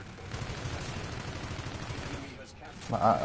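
Submachine gun fire rattles in rapid bursts during an online shooter match, with clattering game effects and a voice talking over the shots.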